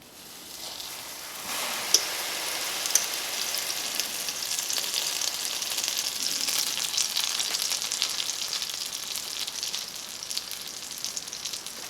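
A grilled cheese sandwich spread with mayonnaise fries in a preheated Teflon pan, a steady, soft sizzle that swells after the first couple of seconds with occasional small pops.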